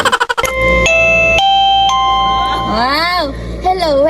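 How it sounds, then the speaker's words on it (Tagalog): An electronic doorbell chimes a sequence of clear tones, followed by a warbling, sliding melody, with a brief clatter at the start. "Ito lang yung doorbell na hindi ka magugulat."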